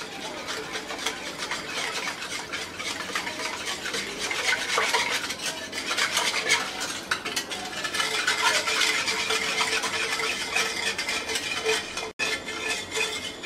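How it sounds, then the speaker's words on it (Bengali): Sugar being stirred into a condensed-milk mixture, heard as a continuous scraping and clinking of a spoon against a bowl, steady and close with no pauses. "এবার মিক্স করে নিচ্ছি"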